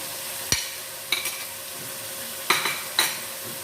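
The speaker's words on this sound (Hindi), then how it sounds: "कीमे को हम भून लेते हैं। कीमे की हम भुनाई कर लेते हैं।" Minced meat with salt and chili fries in a pan, a low steady sizzle broken by four sharp clanks of a spoon scraping and stirring against the metal, close up with no voices.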